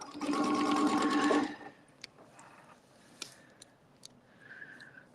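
A sewing machine runs a short, steady burst of stitching for about a second and a half, then stops, leaving quiet room tone with a few faint clicks.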